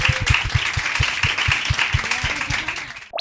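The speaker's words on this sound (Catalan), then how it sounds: "Un aplaudiment per totes" Radio studio guests get a round of clapping, a few people clapping nearby in a quick irregular rhythm for about three seconds before it stops abruptly.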